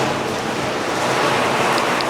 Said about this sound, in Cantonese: 出邊係刮咗颱風，所以好大雨，好猛啊